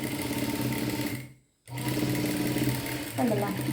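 Sewing machine running close and steady while top stitching a folded neckline, its motor whirring in a rapid even rhythm, stopping briefly, then resuming.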